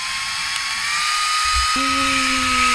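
A small rechargeable battery-powered electric fan runs with a steady high whine at a camp by a lake in Cavinti, Laguna, and a second tone joins midway and holds through the end.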